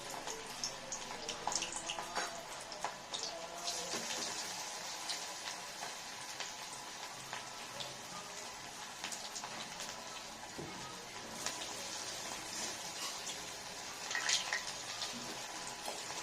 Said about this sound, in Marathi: तर याला छान फ्राय होऊ द्यायचं